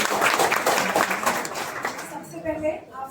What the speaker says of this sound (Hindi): एक बार भरपूर तालियों के साथ उनका स्वागत